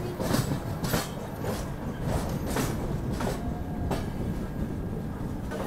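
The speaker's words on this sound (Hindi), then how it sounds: "इटारसी के प्लेटफॉर्म नंबर 3 पे हमारी ट्रेन घुस रही है" Passenger train rolling into platform 3 at Itarsi station, with a steady rumble and repeated clickety-clack of wheels over rail joints heard from inside the coach at moderate volume.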